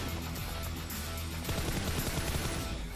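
Rapid bursts of gunfire in a PUBG Mobile match during a competitive esports final, dense and loud, with sustained automatic shots and a sharper burst late on, masking the background.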